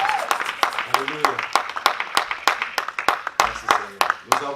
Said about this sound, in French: Acclamons le nom de Jésus.